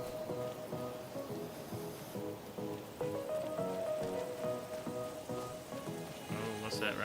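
Steady rain patters on surfaces in Farming Simulator 25, a dense continuous hiss with a few brighter tones over it and a voice talking faintly in the background.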